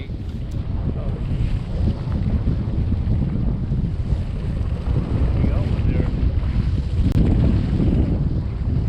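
Strong wind buffets the microphone over a fishing boat on San Francisco Bay, a constant roaring rush with water sloshing below and no clear talk.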